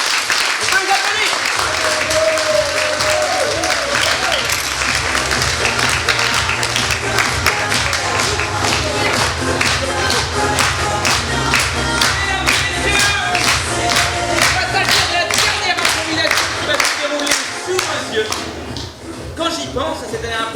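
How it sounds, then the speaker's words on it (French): An audience applauds improv students at the Ch'Nord Impro festival: dense, sustained clapping mixed with crowd cheers and shouts, with a low hum underneath, thinning slightly toward the end. "On peut les applaudir!"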